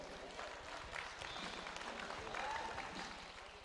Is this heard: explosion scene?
no